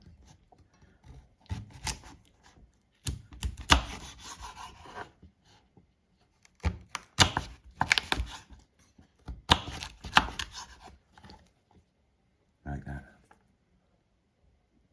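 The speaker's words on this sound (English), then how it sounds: "And then just chop them into fries, man." A knife cuts peeled cassava into fries on a cutting board in bursts of rapid close chopping separated by pauses, with someone talking at times.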